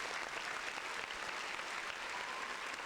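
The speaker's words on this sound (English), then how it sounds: "Round of applause for her." Dense, continuous audience applause fills the whole stretch at a fairly low, even level, with no talking over it.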